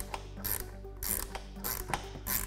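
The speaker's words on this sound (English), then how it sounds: "I'm gonna reach right here with the 3/8 wrench on the outside." A 3/8 ratchet wrench clicks in repeated bursts while tightening the center bolts of a folding windshield on a Polaris Ranger XP 1000, four close rhythmic ratcheting strokes with short pauses between them.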